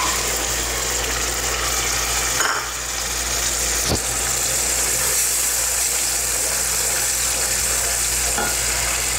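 Ginger garlic paste frying with browned onions and tomatoes in a pan for a potato and peas curry, a steady broadband sizzle with light stirring and a single sharp scrape midway.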